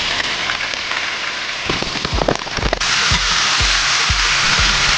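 Unseasoned chicken pieces dropped into hot oil, a loud dense sizzle and crackle with spattering bursts and a few knocks from the pan as the meat goes in.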